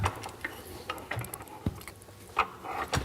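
A restored old hand pump being worked to draw a vacuum, giving irregular mechanical clicks and ratcheting knocks at close range with low rumbling underneath, no talking.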